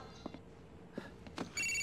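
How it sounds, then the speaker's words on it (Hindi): A phone rings in the video game GTA 4, a short electronic ringtone tone entering near the end after faint scattered clicks and rustles, moderately quiet overall. "फोन है मिलोरी का फोन है"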